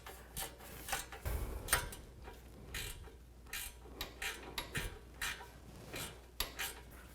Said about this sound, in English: use a ratchet wrench